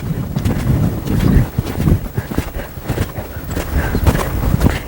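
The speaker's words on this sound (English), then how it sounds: "I'm going to go ahead and pick up a canter on her." A horse canters bareback outdoors, its hooves thudding in an uneven, close rhythm under wind buffeting the microphone.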